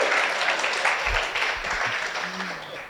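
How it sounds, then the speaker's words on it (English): Applause from an awards audience at an education summit, a steady crowd clapping that fills the whole stretch with a low murmur underneath. "let's hear a round of applause for me"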